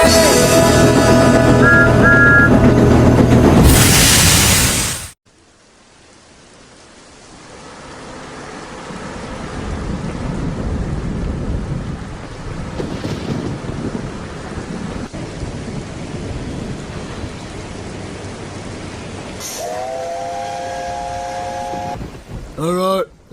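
A thunderstorm in a Roblox game begins after a few seconds of loud music. A dense hiss of rain builds and holds steady, deep thunder rolls through it, and brief tonal chimes sound near the end.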